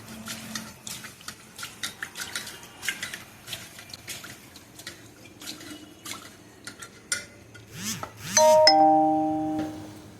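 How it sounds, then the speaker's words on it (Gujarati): A bowl of rice washed twice in water: intermittent sloshing, swishing and small clinks of grains and the bowl, close by, followed near the end by a bright two-tone electronic chime. "તેને બે વાર પાણીથી ધોઈ નાખીએ"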